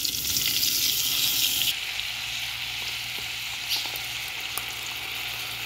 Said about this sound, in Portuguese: Eu gosto do alho douradinho. Pra depois eu jogar a salsicha pra refogar